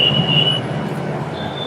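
A metro train rumbles past on an overhead line in a Delhi street, a steady close rolling roar with a high thin wheel squeal early on and again near the end.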